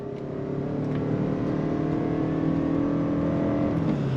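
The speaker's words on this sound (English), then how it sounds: "And then we just turn the dial up top to put it into sport mode. And we're gonna go on throttle." A 2025 Lexus ES 300h Ultra hybrid sedan accelerating in sport mode, heard from inside the cabin as a steady rising engine drone that builds and holds loud, with no talking.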